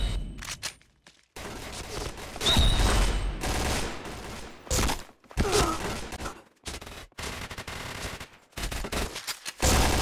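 Rapid bursts of gunfire in a Point Blank Crackdown deathmatch online shooter, with repeated close shots and clusters broken by brief silences, some faint vocal sounds between the volleys.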